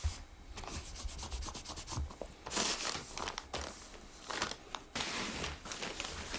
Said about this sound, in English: The surface is then carefully polished with sandpaper.